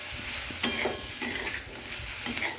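A spatula scrapes and stirs fried lentil dumplings with boiled cauliflower leaves in a pan, a few distinct scraping strokes over a soft sizzle, close and fairly quiet.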